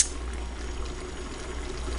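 A steady, low bubbling and rushing of water heating in a kettle, continuous and fairly quiet, with no voices.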